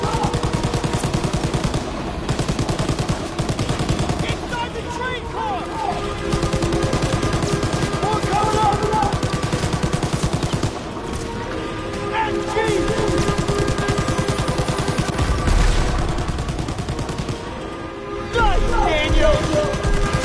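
Call of Duty campaign combat with sustained automatic gunfire, dense rattling bursts and heavy shots nearly nonstop, loud and close, with voices shouting over the battle.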